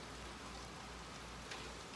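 Steady pouring rain outside, a dense continuous hiss of drops on surfaces, constant in level with no voices.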